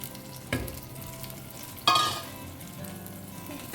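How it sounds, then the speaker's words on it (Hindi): Prawns drop into a pan of slightly browned onions for a Goan prawn curry, setting off a sharp burst of sizzling that fades into a steady frying hiss, with a stir near the start. "और इसे ना 1 मिनट के लिए अच्छे से भून लेते हैं।"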